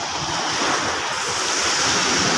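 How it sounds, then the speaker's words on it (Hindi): Floodwater of the Indus River surging at Taunsa Barrage, a broad, steady roar of rushing water and wave-like surf with wind across the microphone, continuous and loud with no voices. "ये देखें जैसे समंदरी लहरें आती हैं बिल्कुल सेम"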